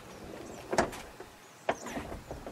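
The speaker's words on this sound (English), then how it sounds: "Large door. I want to just share that opening with you" A car door on a 1956 Mercury Montclair convertible opens with a sharp latch click, then a second clunk a second later, close by against quiet surroundings.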